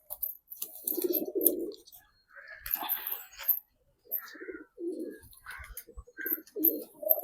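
Sarangpuri pigeons cooing in a loft make soft, intermittent coos in short separate bursts with brief silences between them, mixed with a few light chirps.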